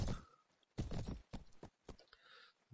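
Horse hooves clopping in the medieval combat game Mount & Blade, irregular close thuds in bursts with short gaps between them.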